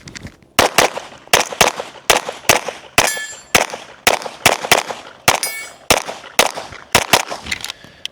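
Rapid string of gunshots with sharp metallic rings as rounds strike steel targets in a practical shooting practice run, about a dozen loud close reports in an irregular quick rhythm, with no talk.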